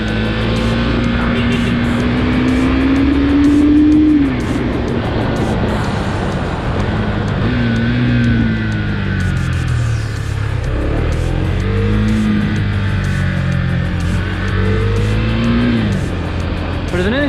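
A Husqvarna Svartpilen 401 motorcycle engine drones loud and close while riding, its pitch rising as it revs and dropping sharply at each gear shift, repeating several times over steady wind noise.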